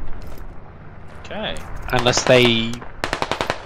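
Machine gun fire in a squad-based tactical shooter game, a rapid burst of sharp cracks near the end, preceded by brief talk and other game noises.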